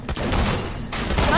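Rapid, loud bursts of cryo weapon gunfire in the shooter game Borderlands: The Pre-Sequel, a dense continuous volley close up with no gaps.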